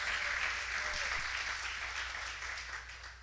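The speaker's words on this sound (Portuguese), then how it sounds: "Vamos dar uma salva de palmas para Jesus?" A church congregation gives a round of applause for Jesus during a service, sustained crowd clapping that gradually fades over a few seconds.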